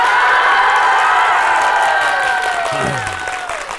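Loud, dense applause and some cheering from a crowd at a live xiangsheng comedy performance, steady at first and then gradually thinning out toward the end.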